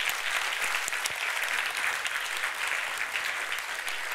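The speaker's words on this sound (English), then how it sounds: "So let's give them all an applaud for making this happen." Dense, steady applause from a large audience at a Women In Tech 2014 technology event, loud and continuous throughout with scattered sharper claps and no voices.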